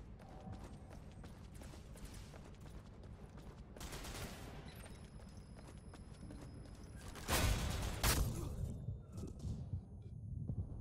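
Shotgun fire in the shooter game Ghost Recon Online cracks out in a few sharp blasts over constant gameplay noise, with a loud burst near the end.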